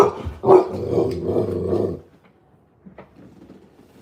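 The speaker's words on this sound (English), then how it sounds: "Dog." A dog growls and barks in a loud, close burst lasting about two seconds, followed by near silence with faint low sounds.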